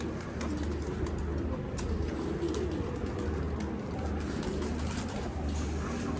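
Pigeons cooing and fluttering in a steady, busy background, with a low continuous hum running underneath throughout.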